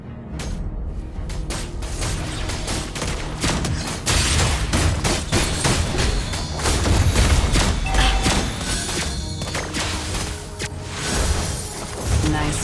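Lesley's rapid gunfire rattles through a Mobile Legends match, dense repeated shots over constant game effects and crashes, loud and close for the whole stretch.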